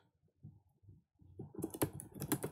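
Typing on a computer keyboard into a Google search bar, soft scattered keystrokes that build into a quicker, louder burst of clicks, close up with no talk.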